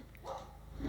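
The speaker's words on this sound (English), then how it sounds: "They'll bark at anything in sight, including the neighbors in their own yard" Dogs barking a short distance off, a brief muffled bark or yip in a quiet room that lasts under a second.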